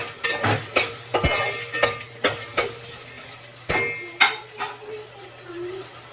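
Ginger-garlic paste stirred in a pan for veg biryani, a spoon scraping and clinking against the metal in a series of sharp, close strokes over a soft steady sizzle, with no talk.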